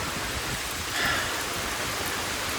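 Rain falling on the Appalachian Trail, a steady, dense hiss of drops on foliage and ground, close and even throughout with no voices.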